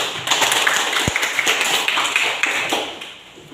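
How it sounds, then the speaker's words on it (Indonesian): Classroom applause for a student named Denny, a short run of scattered hand claps from a small group of classmates that fades toward the end. "kita beri tepuk tangan untuk teman Denny"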